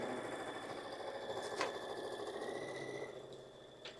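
Sewing machine stitching a circle, a steady low mechanical hum and whir running continuously at moderate distance, with a faint click or two and a slight drop in level near the end.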